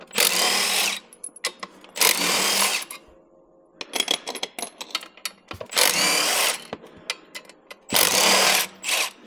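Power tool with a 10mm socket zipping out clutch cover bolts on a Gen 3 CFMOTO CFORCE 1000/800 ATV, four loud whirring bursts of about a second each separated by quieter clicks and handling noise, close up.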